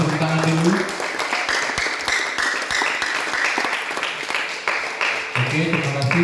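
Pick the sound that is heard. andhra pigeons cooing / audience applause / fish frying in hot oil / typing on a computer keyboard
audience applause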